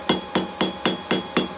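Hammer forging a steel BBQ toasting fork on an anvil, six evenly spaced sharp ringing blows in quick rhythm, loud and close with no talk.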